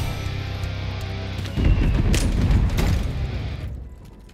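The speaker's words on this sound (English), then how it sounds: "Firing missile at target coordinates." A missile strike in a video game lands with a heavy, rumbling explosion that bursts in partway through and rolls for about two seconds before fading out.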